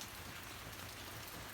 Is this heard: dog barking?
no